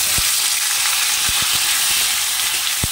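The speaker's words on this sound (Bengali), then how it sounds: "এবার এই যে এই অল্প তেলের মধ্যে দিয়ে দেবো পেঁয়াজ, টমেটো আর ক্যাপসিকাম" Onion, tomato and capsicum frying in a little oil, a steady loud sizzle with a few soft knocks of stirring.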